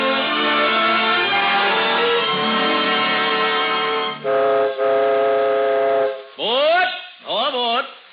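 A train sounds its chord whistle in long sustained blasts, followed by several rising and falling whistle hoots, clear and close with no talking.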